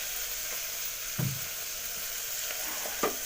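Onions fry in a pan as mutton goes in, giving a steady soft sizzle broken by a louder thump and crackle and then a later clink of the spoon.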